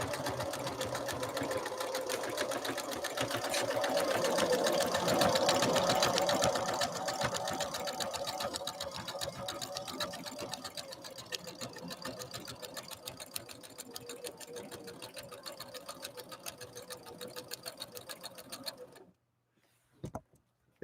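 A Husqvarna Viking sewing machine runs a continuous fast stitch for nearly twenty seconds, a steady whirring chatter that eases slightly after a louder stretch, then stops abruptly with a brief click.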